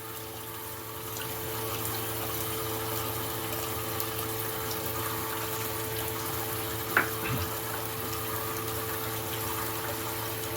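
Water pours and gushes steadily through a power gold pan used for panning pay dirt, a continuous close-up wash with pump hum underneath and a brief splash or knock partway through.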